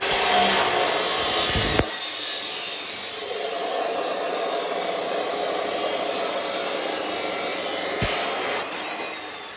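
A loud, harsh cutting sound grinds steadily through a metal exhaust pipe bend for a BMW E46 ZHP turbo downpipe for several seconds, stopping abruptly partway and starting up again briefly near the end.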